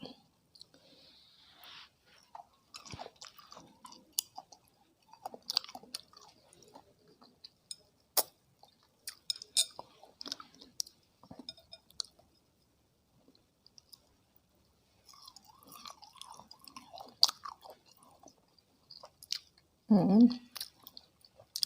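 Java plums are chewed close to the microphone, giving soft, wet crunches, squishes and scattered clicks in irregular bursts with quiet gaps, and a brief low murmur near the end.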